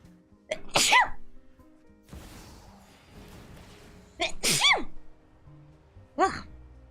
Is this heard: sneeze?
yes